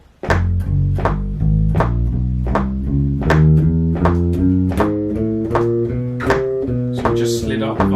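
Bass guitar speed exercise played in a steady run of eighth notes, with clear plucked attacks stepping up and down in pitch at an even rhythm, close and prominent, with short slides between positions.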